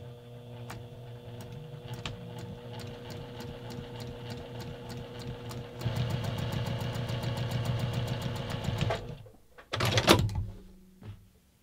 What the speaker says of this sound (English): let's go over to the sewing machine